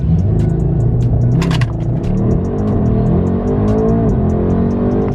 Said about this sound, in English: Launch test! This car launches so damn hard.